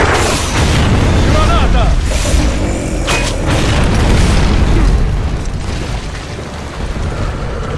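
Explosions in the video game Gears of War 3, a loud continuous roar of booming blasts and debris rumbling through most of the stretch, fading slightly toward the end amid game noise.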